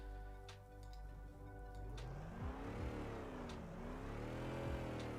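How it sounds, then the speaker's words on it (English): A video game car engine built from mixed wave files, rising and falling in pitch as it revs up and down, with sweeping tones over a steady tonal bed and occasional sharp ticks. "Like the engine sound, for example,"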